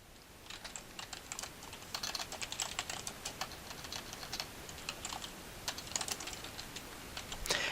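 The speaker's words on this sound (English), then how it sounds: "you can just start typing" Steady typing on a computer keyboard, a quick irregular patter of soft clicks, close and fairly quiet, with no voices.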